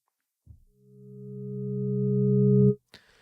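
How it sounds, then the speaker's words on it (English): A soft click, then a steady synthesizer sine wave tone swells gradually for about two seconds, cuts off, and is followed by a brief noisy click. "So we'll start off with a sine again."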